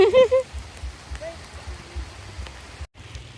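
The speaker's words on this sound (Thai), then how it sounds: "ฝนตกแล้ว" Steady rain patters down in a soft, continuous hiss, with a brief voice at the start and a short break near the end.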